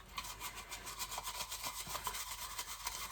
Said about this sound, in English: So just scrub firmly, but don't go crazy.